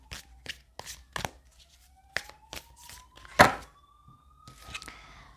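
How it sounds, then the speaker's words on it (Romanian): A deck of tarot-style playing cards shuffled by hand in a quiet room, a series of short crisp riffling and tapping bursts spaced irregularly, close and fairly soft, with a faint tone drifting underneath and no talk. "simt să mai amestec cărțile"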